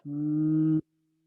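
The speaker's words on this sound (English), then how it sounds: "Exhale with a humming sound." A steady voiced hum held on one long exhale during yoga breathing, a single sustained low tone lasting under a second and then stopping cleanly, close and alone.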